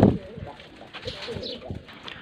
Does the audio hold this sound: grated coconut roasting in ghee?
no